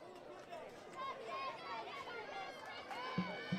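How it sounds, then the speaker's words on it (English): Faint crowd murmur and scattered children's voices at an outdoor softball big screen during a women's Heartland Championship semifinal between North Harbour and Manawatū, with a voice talking over the distant chatter. "As you can hear the crowd in the background because they've got the big screen outside."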